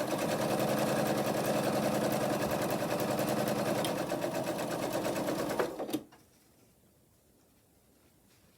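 A sewing machine stitching quilt block pieces with a quarter-inch seam, a fast, even mechanical whir running close for about six seconds before stopping abruptly into near silence.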